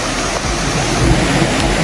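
Strong floodwater rushes down from a mountain after nonstop rain, a loud, continuous roar of churning water with a slight swell partway through, close by and unbroken, with no talking.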